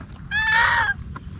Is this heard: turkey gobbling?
yes